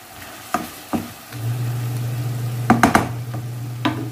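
Shrimp sauté in a pan, a faint steady sizzle running under a few sharp clinks and knocks of a utensil against the pan, close but quiet.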